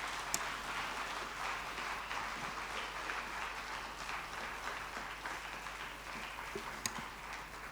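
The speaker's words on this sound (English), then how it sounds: "another round of applause for the Honorable Minister of Education" Audience clapping at a national teachers summit in Nigeria, a moderate, steady patter of applause throughout, somewhat distant and soft, with a couple of sharp isolated claps near the start and end.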